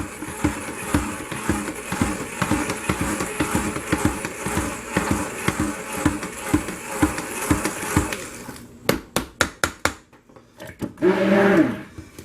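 A stick blender works through thick hot process calendula and chamomile soap batter in a pot, a loud continuous motor whir with rhythmic churning pulses, then stopping and giving way to scattered knocks and clatter.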